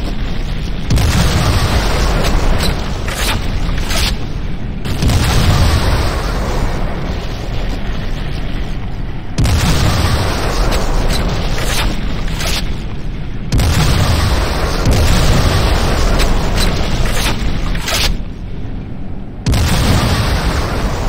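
Repeated heavy explosions and booming blasts from a GDI weapons factory under attack in the Renegade video game, loud and continuous, in dense rolling bursts with brief pauses between waves.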